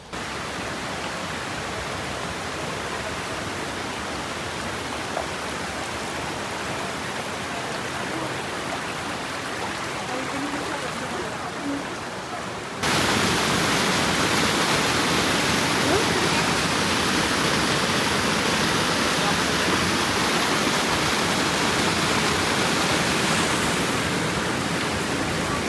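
Waterfall at the end of a trekking trail, a constant dense roar of rushing water heard close up, growing noticeably louder and brighter halfway through.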